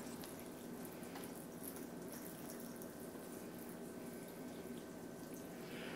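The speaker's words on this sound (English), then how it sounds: "And then I'm going to pour in the jar." Faint, steady splashing of salt water brine being poured into a jar of sauerkraut, a soft continuous trickle with no talking.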